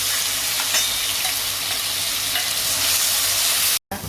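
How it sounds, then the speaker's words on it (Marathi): Green chili paste hits hot oil in a wok for potato vada filling, a loud, dense, continuous sizzle with stirring scrapes, briefly cutting out near the end; no voices. "आता आपण तेलामध्ये हे मिरची वाटलेलं वाटण टाकूया"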